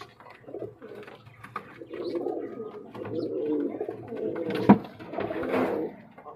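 A pair of Sirazi pigeons coo close by in soft, repeated throaty rolls that come in uneven bursts, with a sharp click partway through.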